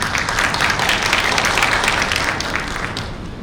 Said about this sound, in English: So do give her a round of applause.